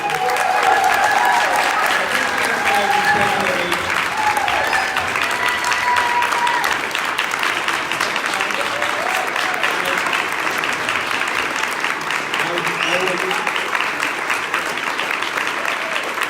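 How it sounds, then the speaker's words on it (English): Sustained, loud applause from a large crowd at a monthly meeting fills the whole stretch, with a few voices and cheers faintly mixed in beneath the clapping. "So can we give him a big round of applause?"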